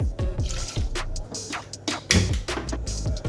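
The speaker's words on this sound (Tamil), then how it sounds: "குக்கரில் ஒரு 1/2 டம்ளர் தண்ணி ஊற்றி உப்பு லைட்டாக போட்டு வேக வச்சுக்கலாம்." Water is poured into a pressure cooker holding carrots, heard as a series of irregular splashes and drips of varying loudness, close by and with no voices.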